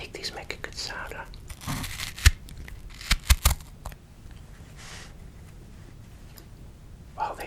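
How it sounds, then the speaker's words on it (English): A knife cutting fresh strawberries up close, giving a few crisp, juicy slicing clicks clustered in the middle amid soft rustling, with whispering in the background. "let me cut some of these strawberries"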